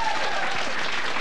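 Studio audience applause for a rock singer on a live talk show, a brief burst of dense clapping at steady level.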